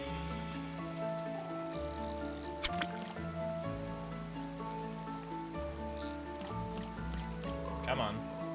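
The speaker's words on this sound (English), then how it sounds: "it is now raining again" Steady rain patters across the ground in the video game Grimshire, a constant soft hiss lying under tonal game music and occasional talk.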